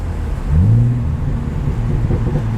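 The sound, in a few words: BMW sports car engine revving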